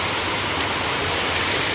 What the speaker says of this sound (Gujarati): મસ્ત વરસાદ ચાલુ થઈ ગયો છે.